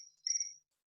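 Crickets chirp in a single short, thin trill that rises and fades within about half a second, faint and alone in a quiet room.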